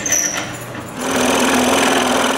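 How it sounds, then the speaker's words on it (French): A power drill bores a hole in a wooden intarsia piece: a brief quieter buzz, then the motor rises into a loud, steady, close whine with gritty cutting noise. "Je dois en percer 2 dans cette pièce avant de découper mon morceau"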